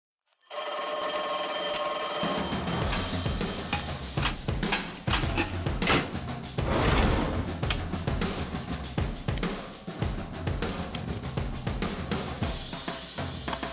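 Telephone bell rings loudly and continuously from the start, its harsh metallic peal steady over several seconds, with no talk over it.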